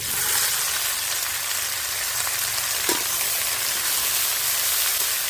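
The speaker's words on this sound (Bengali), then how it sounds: "রসুনগুলো আমি ভালো করে একটু ভেজে নিয়েছি একটু লাল লাল করে এবারে দিয়ে দেব আমি কেটে রাখা শাকগুলো" Chopped red amaranth greens hit garlic frying in a pan and give a steady, loud sizzle that fills the whole stretch, with one faint knock partway through and no talking.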